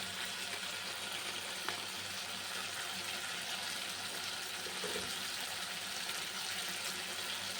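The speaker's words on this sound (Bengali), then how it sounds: "এই দেখো আদাটা লঙ্কাটা ভাজা হয়ে গেছে" Ginger and green chili paste sizzles in a pan for a vegetarian chana dal, a steady soft hiss throughout at a fair distance, with no talk.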